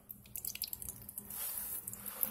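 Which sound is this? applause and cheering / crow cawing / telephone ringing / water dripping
water dripping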